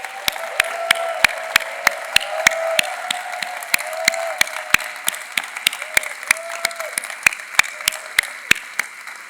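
Church congregation clapping to welcome new members at an Easter Sunday service, a steady round of crisp claps from many hands over a low murmur, carrying on throughout without a break.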